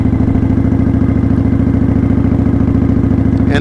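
A motorcycle engine runs at low speed with the clutch fully released, a close, loud, steady rhythmic chugging that holds an even pace throughout, with no voices.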